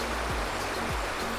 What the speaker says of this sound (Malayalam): നല്ല അടിപൊളി അരുവി ഒഴുകി വരുന്നത്